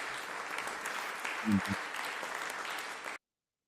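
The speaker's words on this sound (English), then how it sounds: "Round of applause for Tim." Applause for a caller on a live show, a steady patter of clapping lasting about three seconds at low level before cutting off abruptly, with a brief low voice or thump midway.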